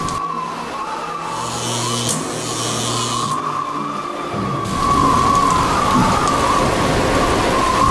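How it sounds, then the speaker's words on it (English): Heavy rain and gusting wind around a railway station canopy, a continuous dense roar of rain with a steady whistling tone and a swelling gust partway through, loud and unbroken. "The station canopy offered some protection from the rain, but did little to keep the wind out."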